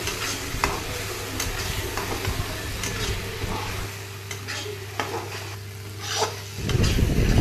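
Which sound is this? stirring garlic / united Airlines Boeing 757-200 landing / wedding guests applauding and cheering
stirring garlic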